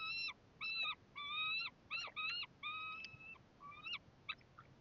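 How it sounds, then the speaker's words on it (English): Eagle calling in the background outdoors with a run of loud, high, slightly squealing notes in quick succession, the later ones fainter and more broken, and no talk over it. "I hope you can hear the eagle"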